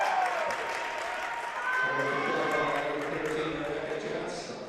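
Home crowd at a girls' high school basketball game clapping after a charge is drawn, a broad wash of applause and cheering under an excited commentator's voice, with a few squeaky sneaker sounds.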